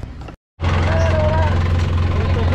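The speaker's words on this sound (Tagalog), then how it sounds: "napandar na natin itong makina" An Isuzu engine runs steadily after being started, a loud, continuous low idle that resumes abruptly after a brief silent gap and holds evenly to the end, with a faint whine above it.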